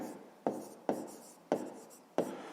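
A pen writes numbers by hand on paper, four crisp scratching strokes in a steady rhythm, close and quiet.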